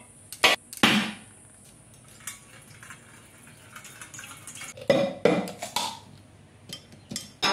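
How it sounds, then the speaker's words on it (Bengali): A coconut is cracked open in a home kitchen with a few sharp knocks, loud cracks near 0.5, 1, 5 and 6 seconds, each followed by quieter rattles and knocks, close and with no talk. "তাই আমি নারকেলটা আবার ফাটিয়ে নেব।"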